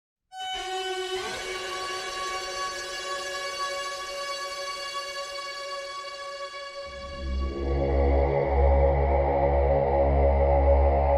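A dark, ominous orchestral drone from the horror film score of Hereditary, with sustained bright tones, joined midway by heavy low rumbling layers that swell into a brooding, menacing texture.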